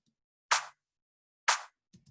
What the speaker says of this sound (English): I layered it with another clap that sounds like this